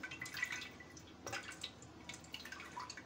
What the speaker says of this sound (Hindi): इसमें थोड़ा थोड़ा पानी ऐड करते रहेंगे और इसको छानते रहेंगे